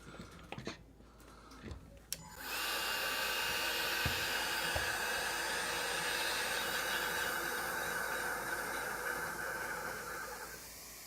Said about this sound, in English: My new Milwaukee 18-volt heat gun. First time I've used it. Never even fired it up.